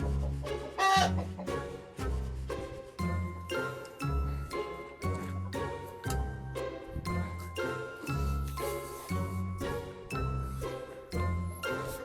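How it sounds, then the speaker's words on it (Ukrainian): Chickens clucking loudly and repeatedly during a chaotic chase in a yard, with rapid agitated bursts close by and a faint jingling in the mix. "Лови ту курку!"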